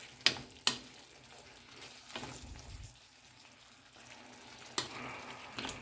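Picadillo being stirred in a pan, a few sharp scrapes and clinks of the spoon over a soft, low sizzle of frying, quiet and close with no talking.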